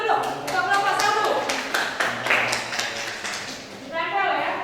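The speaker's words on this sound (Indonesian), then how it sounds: "Kita beri tepuk tangan dulu untuk kelompok 1." Classroom clapping from students for a presenting group, a brisk burst of hand claps with talk mixed in, briefly settling before a voice speaks again.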